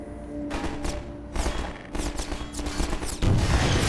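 Gunfire in Half-Life 2, loud bursts of rapid shots in quick clusters with short pauses between, ending in a heavier boom, close and dominant with no talk over it.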